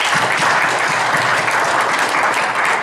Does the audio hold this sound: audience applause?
yes